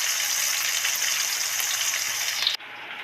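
Chopped onion hits hot oil in a pan for a Bengali hilsa curry with green chillies, giving a loud, steady broadband sizzle that drops away abruptly near the end, with no talk.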